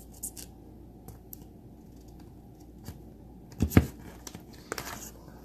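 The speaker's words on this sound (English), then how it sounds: "I'm just gonna cut that top straight because the paper's straight here" Scissors snip through scrapbook paper in a quiet room: a few faint rustles, then one clear, close crunching cut, followed by light paper scratching.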